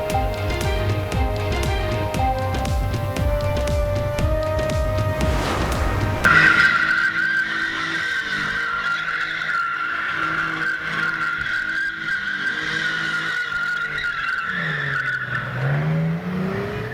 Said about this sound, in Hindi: इस्लामाबाद में जिना एवेन्यू पर कार ड्रिफ्टिंग।